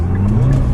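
A 2015 Nissan GT-R Nismo's engine roars at full throttle, a loud, steady low drone filling the cabin throughout the short burst.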